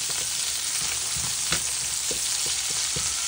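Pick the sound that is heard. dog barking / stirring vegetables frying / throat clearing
stirring vegetables frying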